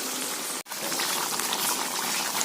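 Chicken sautéing in yogurt without water in a pot, a thick bubbling sizzle that runs steadily and close, with one very brief dropout.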